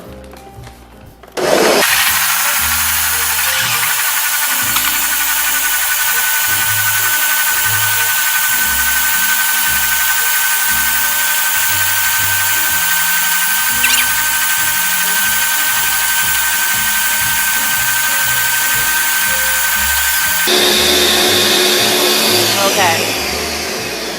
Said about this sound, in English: now we're going to just blend it in the blender.